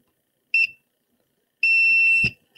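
An electronic alarm in a room gives a short double beep, then after a pause a longer sustained tone that cuts off abruptly, loud and piercing against near silence.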